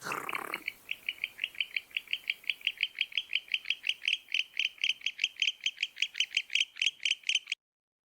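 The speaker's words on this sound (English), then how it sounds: "the barn owl making cute owl noises" A fast, steady series of high, raspy chirping calls from a barn owl, repeating rhythmically about four times a second before stopping abruptly.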